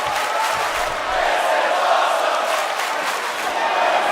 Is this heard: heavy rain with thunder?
no